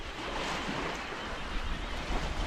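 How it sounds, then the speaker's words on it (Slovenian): Wind and waves wash constantly around a sailboat sailing across the Pacific Ocean, a dense steady rush of surf and gusting wind buffeting the microphone. "Končno malo vetra, končno se premikamo"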